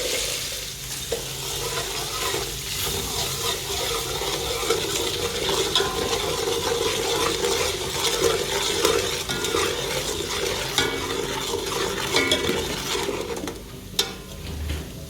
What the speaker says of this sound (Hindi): सारे मसालों को भी मैंने अच्छे से फ्राई कर लिया है